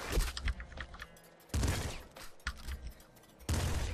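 A pop gun firing in the game Nuclear Throne, rapid clusters of small crackling shots arriving in several separate bursts, fairly quiet with no voices.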